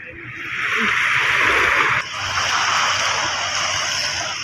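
Water washing against the rocky, rubbish-strewn shore of Manila Bay, a loud steady rushing and splashing that swells and briefly drops before continuing, heard up close with no talk.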